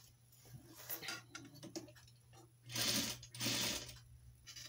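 A very fast sewing machine stitches in short bursts with pauses between, two longer, louder runs near the end, heard close and fairly quiet with a faint steady hum underneath, while a wedding dress train is decorated.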